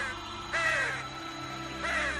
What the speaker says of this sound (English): A flock of crows.